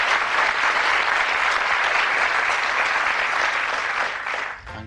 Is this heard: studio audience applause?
yes